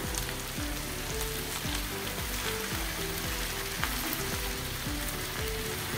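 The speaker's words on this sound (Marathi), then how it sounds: "हळूहळू ही तेलामध्ये थोडी परतून घ्यायची आहे भाजी, गॅस मोठा ठेवूनच" Tender tandulja leaves sautéing in oil over a high flame, an even close crackle and sizzle with a steady rhythmic scraping of a spoon stirring the greens.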